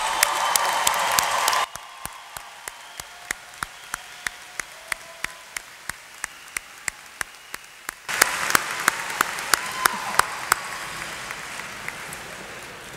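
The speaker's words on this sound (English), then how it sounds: "Let's give them one more round of applause." Applause at a Radford University spring commencement starts dense, drops to sparse, distant clapping with sharp isolated claps, then swells again into a fuller round from the crowd.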